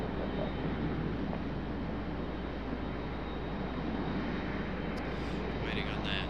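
Airplane taking off from a runway at Raleigh-Durham airport, a steady broad engine roar heard from a distance, holding level throughout with no voices over it.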